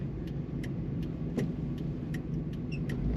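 Steady low rumble of a 1992 Chevrolet C15 Blazer engine idling, with faint regular ticking clicks above it, close and moderately loud with no voices.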